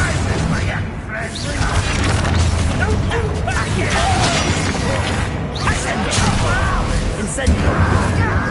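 A Bombarda spell blasts in a fantasy action game against goblins and spiders, giving sharp cracks and booms among whooshing effects, with voices talking over the chaotic fight.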